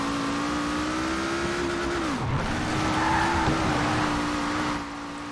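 A LEGO car drifting in Forza Horizon 4 holds a steady engine drone while its tires squeal continuously, with the pitch dipping briefly mid-slide and no talking.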